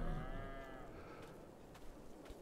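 Cows on a farm in the farming video game Landwirtschafts-Simulator 22 mooing, one long clear low moo at the start followed by quieter overlapping calls and faint thuds, fairly close.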